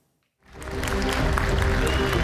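Audience bursts into sustained applause after a brief silence as Nikola founder Trevor Milton walks on stage at a December 2016 launch event, the clapping loud, dense and steady to the end.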